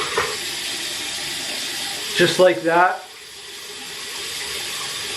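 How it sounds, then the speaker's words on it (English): Warm tap water runs steadily into a sink while a shaving brush soaks for a safety razor shave, a continuous hiss under a brief spoken remark that fades into quiet. "The first thing I do is soak this with warm water and just let it saturate for about 30"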